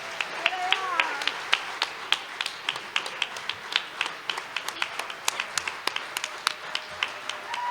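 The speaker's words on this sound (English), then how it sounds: "You have to clap now" A storytelling festival audience in Taos clapping, a steady patter of many hands with sharp individual claps standing out, continuing evenly for several seconds.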